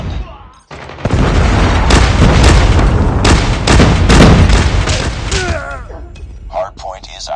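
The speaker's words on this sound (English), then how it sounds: "Predator missile inbound." Predator missile strikes in the mobile shooter Call of Duty Mobile, heavy booming blasts and rumbling explosions in a loud sustained barrage that trails off, with brief voice fragments near the end.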